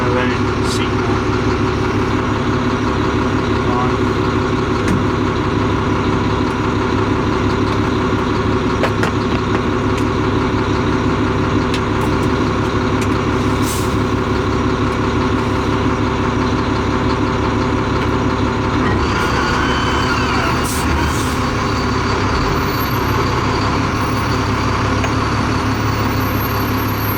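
The engine of a rock truck, just back in service after three hoses were replaced, runs with a steady loud diesel drone close by, and someone talks over it.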